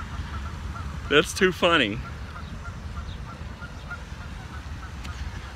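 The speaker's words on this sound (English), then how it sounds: "A whole gaggle of geese ganged up on two ducks." A short burst of nasal goose honks, three or four calls close together, over steady outdoor background noise at a pond while a person talks.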